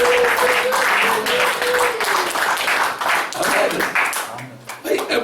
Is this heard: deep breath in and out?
no